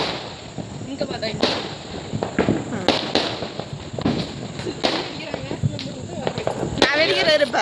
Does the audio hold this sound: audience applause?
no